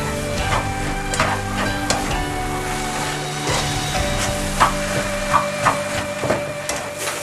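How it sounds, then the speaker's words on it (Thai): Pre-fried turnip cake filling is stir-fried together in a pan, with a steady soft sizzle beneath repeated scraping and clinking of a spatula against the pan at an irregular rhythm. "เราก็จะใส่เครื่องที่เราผัดไว้เนี่ย ลงไปผัดใส่กันเลยนะคะ เราก็จะคลุกให้เข้ากัน"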